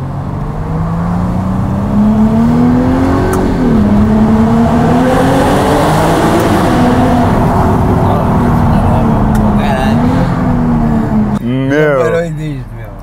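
A new car's engine revs loudly and climbs in pitch over and over, with sweeping roars that rise and fall. Near the end it drops into a quieter, wavering whine as people talk over it.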